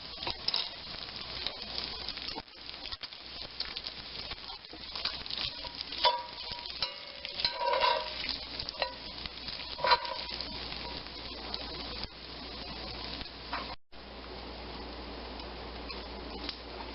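Bacon sizzles and crackles in grease in a frying pan, a steady, moderately quiet hiss with small pops and faint stirring scrapes, with no one talking.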